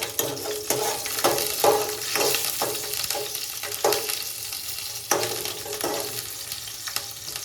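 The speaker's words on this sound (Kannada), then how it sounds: "ಎಣ್ಣೆ ಕಾಯಕತ್ತೈತಿ ಇದ್ರೊಳಗೆ ನಾ ಫಸ್ಟ್ ಇದು ಹಸಿ ಮೆಣಸಿನ್ಕಾಯಿ ಹಾಕ್ತೀನಿ ನೋಡ್ರಿ" Green chillies fry in hot oil for egg rice, a loud, crackling sizzle punctuated by repeated stirring scrapes and clinks against the pan in an uneven rhythm.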